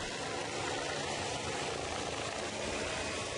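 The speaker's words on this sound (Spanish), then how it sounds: "Es un helicóptero de la Policía Científica de Venezuela que por varios minutos sobrevoló el Tribunal Supremo de Justicia." Venezuelan Scientific Police helicopter flying over the Supreme Court of Justice in Caracas, a loud, steady rotor and engine roar filling the whole stretch with constant dense chop, close overhead, no voices.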